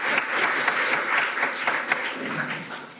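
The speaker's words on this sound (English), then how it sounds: "So can we give them a round of applause for organizing tonight?" An audience at a college evening event applauds, with a dense round of clapping and distinct individual claps that holds steady and then tapers slightly toward the end.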